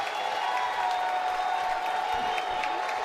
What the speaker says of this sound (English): This crowd is fully charged with Marin in the box.